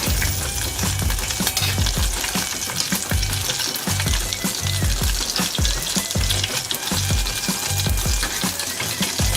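Crab rangoons fry in hot oil, a loud, dense, bubbling sizzle that holds steady throughout, heard up close with no speech.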